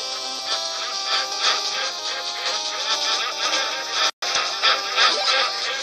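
Ducks quacking in a video game, a dense, continuous chorus of loud nasal quacks with a brief cut in the middle.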